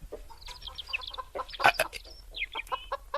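Chickens cluck and squawk in quick, uneven bursts close by, several birds calling over one another in a farmyard with no talking.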